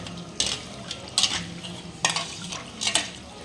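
A spoon stirs fish curry masala in a pan, giving a few soft scraping sweeps over a low sizzle, close and fairly quiet with brief louder strokes.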